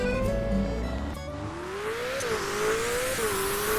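A car engine in a Roblox driving game revs up and pulls away, pitch climbing and dipping through gear changes, loud and close with a brief tyre screech.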